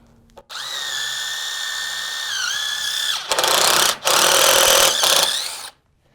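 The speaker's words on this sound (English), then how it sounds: "Drill a countersink hole." A power drill whines steadily, then bites into the wood of a chicken coop floor with a harsher grinding roar in two bursts while boring a countersink hole, before stopping, close and loud.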